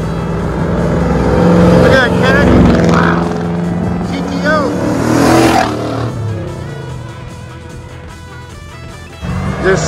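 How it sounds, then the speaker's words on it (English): A loud Ford Falcon station wagon cruising past, its engine roaring near and strong before fading, with voices talking over the noise. "That's a Ford Falcon. Wow. That station wagon was loud."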